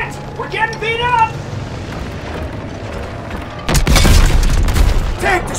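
A tank blows up in the Call of Duty: WWII battle, a heavy, close boom bursting in midway and rumbling to the end, after strained voices talk over a low engine drone.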